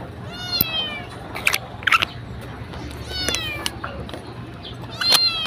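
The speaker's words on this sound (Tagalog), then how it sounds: "may pusang sumama na guys" A cat meows repeatedly beside a tricycle on a street in Valenzuela, several short and fairly loud calls spread across the clip over steady low traffic and engine rumble, with no one speaking.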